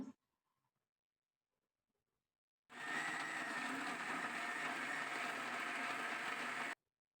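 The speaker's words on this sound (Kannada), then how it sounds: "ಹಾಕಿ ಮಿಕ್ಸಿ ಮಾಡೋಣ" An electric mixer grinder whirs loudly and steadily for about four seconds while blending tomato chili chutney, starting and stopping abruptly after a near-silent pause.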